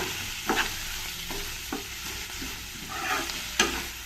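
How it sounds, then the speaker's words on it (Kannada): Fenugreek leaves frying in oil, a soft continuous sizzle broken by a few sharp stirring scrapes, close and fairly quiet with no voices. "ಎಣ್ಣೆಯಲ್ಲಿ ಮೆಂತ್ಯ ಸೊಪ್ಪು ಚೆನ್ನಾಗಿ ಫ್ರೈ ಆಗಬೇಕು"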